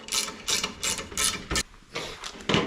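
Bracket bolts for a rear chase light being snugged up on a 5th Gen Toyota 4Runner, heard as a series of about eight short, close ratcheting bursts with brief pauses between them.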